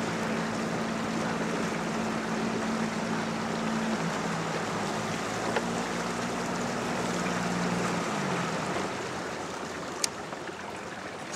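A boat motor hums steadily while trolling as the lure line pays out, over a wash of water and wind, then the motor drops away near the end.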